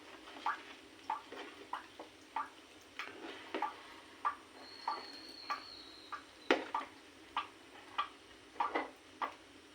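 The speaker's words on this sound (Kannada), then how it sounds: "ಇದೀಗ ಸ್ಪೂನಲ್ಲಿ ಸ್ವಲ್ಪ ಕೈ ಆಡಿಸೋಣ." A spoon stirs butter melting in a pan for ghee, making a steady series of light scraping clicks against the metal, quiet and close.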